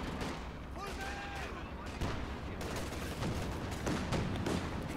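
Rapid bursts of anti-aircraft cannon fire from a Flakpanzer in a Company of Heroes 2 battle, crackling repeatedly amid a dense, rumbling wash of distant gunfire and explosions.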